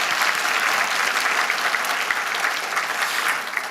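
Warm congregational applause for a church choir during a 33rd-anniversary thanksgiving worship service, a dense, even wash of clapping from a full room, steady throughout and tapering slightly at the close.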